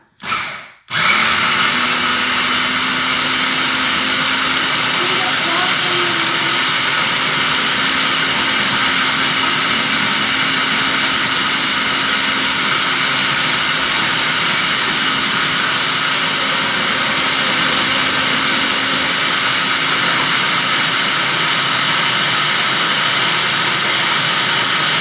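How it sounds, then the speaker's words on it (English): An electric grinder switches on after a click and whirs loudly at a steady pitch for over twenty seconds, milling ingredients into powder for traditional Chinese New Year Kuih Koya cookies. "I'm going to grind this. This is going to sound a little bit."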